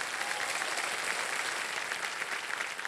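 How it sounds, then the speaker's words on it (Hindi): A studio audience on a television quiz show claps steadily for a contestant, a brief, even wash of applause heard alone. "गौरांग जी के लिए एक बार ताली बज जाए"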